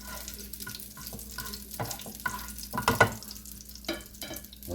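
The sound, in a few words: garlic in oil, pushed aside in the pan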